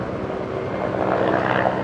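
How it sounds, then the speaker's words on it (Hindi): A helicopter flies over the flood-hit Kullu valley on a rescue mission, its steady rotor and engine drone loud and continuous, swelling slightly as it passes, with no talk. "यहाँ देखो अभी हेलीकॉप्टर चले हैं लोगों की हेल्प के लिए"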